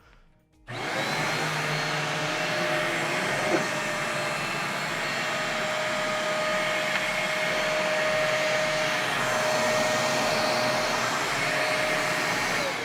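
Riccar R25 upright vacuum cleaner starting up and running with a steady loud whine and airflow roar after sucking up a jamming object, constant for about twelve seconds, no talking.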